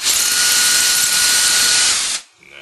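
A power drill runs at high speed, drilling through the bowl of a vintage tobacco pipe. It makes a loud, steady whine and hiss for about two seconds, then stops abruptly.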